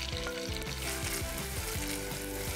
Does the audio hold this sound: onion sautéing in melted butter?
yes